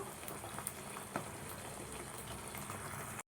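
Thin coconut slices fry in coconut oil and ghee with a faint, steady bubbling crackle, close and quiet, with a couple of light ticks before the sound cuts off abruptly.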